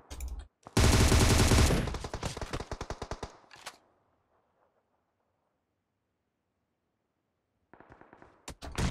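Rapid automatic gunfire in the PUBG Mobile video game, a loud dense burst of shots that thins into separate cracks, falls silent, then resumes with a few more close bursts.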